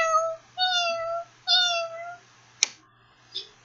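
A person imitates a cat's meow with three drawn-out, rising-and-falling meows in a row, followed by a short sharp click and a brief faint squeak. The voice is close to the microphone and is heard alone.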